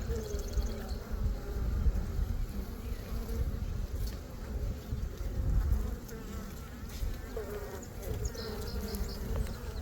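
Dense, steady buzzing of many honeybees around an open hive during a frame inspection, close and continuous throughout with no pauses.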